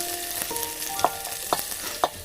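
Garlic and onion fry in hot oil, giving a steady, quiet sizzle while a spoon scrapes the pan about three times in an even rhythm, close by, with no voices.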